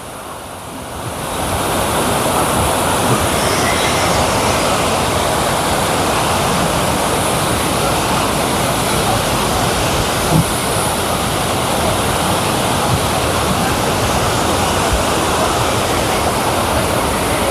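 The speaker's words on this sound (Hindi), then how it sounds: "ये देखिए कितना जो है फास्ट पानी जा रहा है।" Fast water rushing down a stream channel beside lakes in northern Italy, a steady loud roar and hiss that swells in after the first second and holds unbroken, with no voices.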